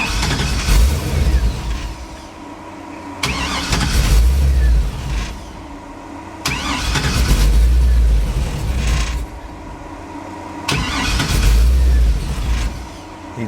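A 1957 Chevy engine repeatedly cranks, catches and revs briefly, then stalls, four loud bursts separated by quieter gaps with creaking mechanical noise.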